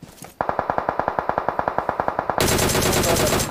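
Rapid automatic gunfire in a vehicle-combat shooter video game, about fifteen sharp evenly spaced shots in a fast burst, followed by a sustained loud blast of noise, with no talking.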